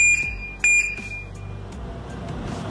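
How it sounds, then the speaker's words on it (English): A loud electronic warning tone sounds in two short bursts of repeated beeps, then cuts off, leaving low background rumble. "So after the beep, if someone tries to open it, it gives the warning like this"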